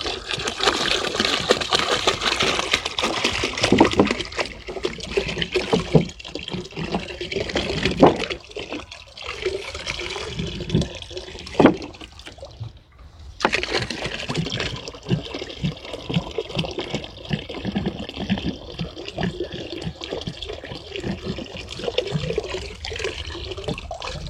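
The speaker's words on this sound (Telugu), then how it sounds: "ఈ లిక్విడ్ని ఇప్పుడు నేను వాటర్లో పోస్తున్నా" Brownish liquid from soaked cow dung manure is poured into water, making a continuous splashing, gurgling pour up close with some uneven surges and a brief lull midway.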